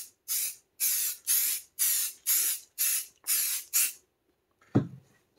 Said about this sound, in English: So we're going to spray some mold release, we're going to let that dry